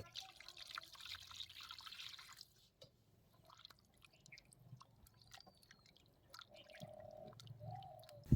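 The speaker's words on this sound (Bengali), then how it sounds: "এই পাঙাশ মাছটাকে আমরা ভালো করে ধুয়ে নেব" Water drips and trickles while a pangas fish is washed in a kitchen, with faint, irregular splashes and drops scattered through quiet stretches.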